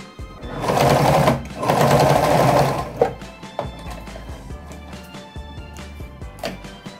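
A sewing machine stitches bias binding onto a hooded towel, running in two close steady whirring bursts, followed by lighter clicks and handling of fabric.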